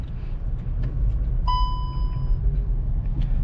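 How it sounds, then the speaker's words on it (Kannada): Skoda Slavia car engine running at a steady low rumble, heard close and continuous, with a brief clear tone sounding partway through. "ಸೊ ಇಂಜನ್ ಸೌಂಡ್ ಕೂಡ ತುಂಬ ಚೆನ್ನಾಗಿದೆ ಅಂತಲೇ ಹೇಳ್ಬೋದು"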